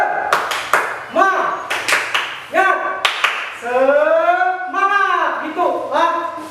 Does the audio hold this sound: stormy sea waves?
no